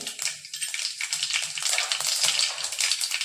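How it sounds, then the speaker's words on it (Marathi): Mustard seeds and cumin sizzle and crackle in hot oil, about four to five spoonfuls, as tempering for Marathi pithla; a dense, steady, close frying hiss with fine popping throughout. "तेल गरम झालंय, आपण मोहरी टाकून घेऊ। आपण जिरे घालतोय।"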